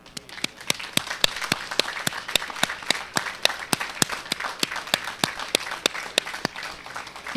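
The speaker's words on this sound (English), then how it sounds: "join me in a round of thankful applause to them" Graduates at a university spring commencement ceremony applaud their families, a sustained round of clapping with individual sharp claps standing out, steady and moderately loud throughout with no talk.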